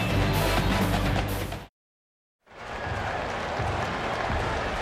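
Oklahoma Sooner fans roar in the stadium end zone at a 2007 college football game against Texas, a dense, loud crowd cheer that cuts to silence briefly before the roar returns.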